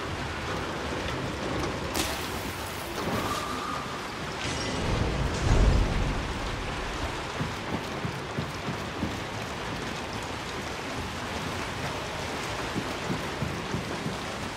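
Rain falls steadily in the video game Hunt: Showdown, a continuous hiss of drops with a low rumble near the middle and faint scattered thuds, with no talking.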